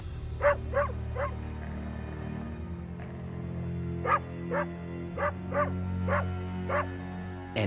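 A dog barks repeatedly outdoors on a rural property, sharp mid-distance barks in two bursts with a pause between, over a steady low background hum.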